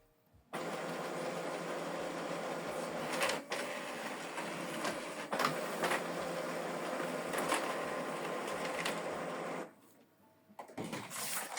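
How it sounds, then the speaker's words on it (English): A Brother DCP-L2620DW laser printer running a print job, its steady mechanical whir and rolling feed noise holding for about nine seconds with small clicks, then stopping abruptly before a few quieter clunks. "This is the document we printed out."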